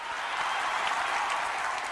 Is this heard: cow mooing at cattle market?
no